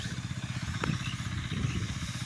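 A farm machine engine runs in a field where sweet corn is grown and water is being pumped, a rough, throbbing low chug with a steady pulsing rhythm and one sharp clack, heard nearby.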